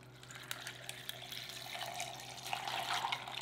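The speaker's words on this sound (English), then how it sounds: "Now we're gonna add in our ice and 2 cups water." Water poured over ice into a batch of creamy strawberry lemonade made with sugar and coconut condensed milk, a steady close splashing rush that grows slightly fuller toward the end, with faint clinks and no talking.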